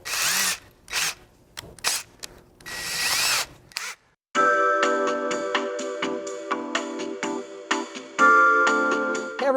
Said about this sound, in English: You're about to drill into your roof